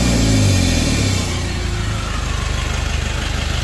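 Turbocharged Mitsubishi L300 Euro 4 diesel engine with a check-engine fault, revving loud and close and then dropping back to a rough, rhythmic idle, with no talk over it.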